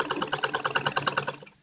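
A brief, close burst of a sewing machine stitching a back zip into a kurti, rapid even needle pulses for just over a second before cutting off.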